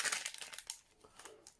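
Thin titanium foil crinkles and crackles in short, irregular bursts, close by but quiet.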